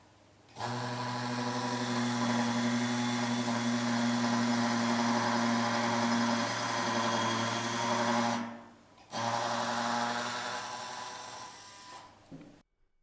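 A standard 3.0 mm dental implant drill for the first depth drilling runs at no more than 800 rpm, a steady high whine held for about eight seconds, briefly stopping, then resuming before cutting off.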